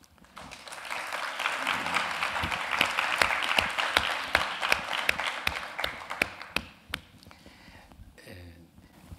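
Audience applause after the introduction at a Spanish lecture on intellectual property law reform: a room of clapping swells, holds with sharp individual claps, then tapers off to a few last hands.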